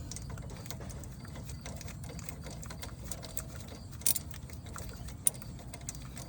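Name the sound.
Harbor Freight palm ratchet removing brake caliper bolts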